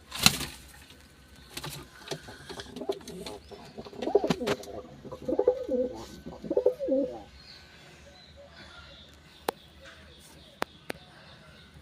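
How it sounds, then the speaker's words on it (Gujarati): Pigeons coo in soft, throaty bursts at close range, rising and falling in a cluster of calls midway, with scattered sharp clicks and taps around them and a quiet stretch toward the end. "આ કબૂતર આપણે નવું લેવા છે"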